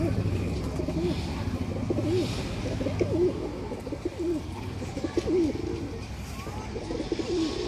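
Sialkoti high-flyer pigeons coo repeatedly in soft, rolling calls over a busy background murmur, several birds close by.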